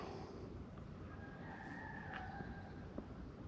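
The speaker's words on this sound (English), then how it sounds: "Just hear the chickens from down the cottages." Faint, distant chickens clucking with a drawn-out crow, heard from woodland among big trees over a steady outdoor hiss.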